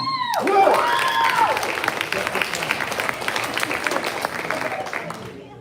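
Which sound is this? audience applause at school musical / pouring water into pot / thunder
audience applause at school musical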